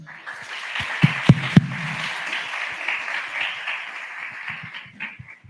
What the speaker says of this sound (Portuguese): gostaria de pedir pelo menos uma salva de palmas.